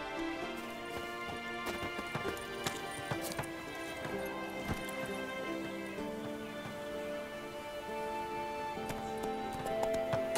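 Horse hooves clip-clop at a trot in The Witcher 3, a steady rhythmic beat under a dense bed of game music and ambient noise, fairly close and continuous throughout.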